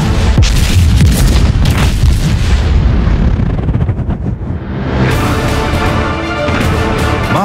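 The 16-inch Mark 7 naval guns of the battleship New Jersey fire heavy, thunderous blasts close by, one boom rolling into the next with a deep rumble that briefly eases before another loud report.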